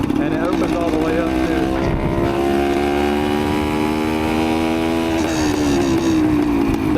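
A 1973 Suzuki TS250 motorcycle, a barn find just revived, runs close and loud: its engine swells through a rev, then settles back into a steady idle and rises again toward the end.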